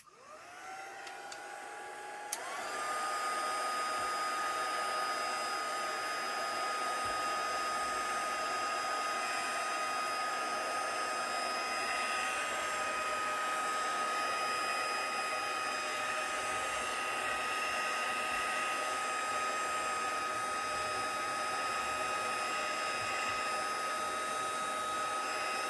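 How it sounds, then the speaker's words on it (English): A craft heat tool switches on and blows hot air in a loud, steady roar with a high whine, running continuously close by. "I will need my heat tool back"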